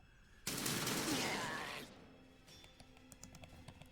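Gunfire from units firing on the enemy in Warhammer 40,000: Sanctus Reach, one dense, loud burst of volley fire lasting over a second, then scattered lighter crackles and taps fading out; no talk.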